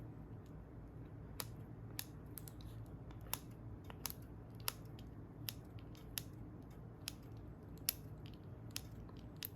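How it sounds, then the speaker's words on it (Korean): Scissors snip moss trimmed on a Christmas tree topiary, giving a string of crisp, close cuts at an irregular pace over a low, steady background hum. "가위로 자르실 때 너무 다 자르시지는 마시고"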